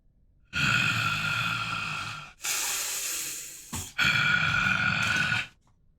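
A game master imitates heavy, deep, rattly breathing, three long rasping breaths in a slow steady rhythm, loud and close with brief silences between.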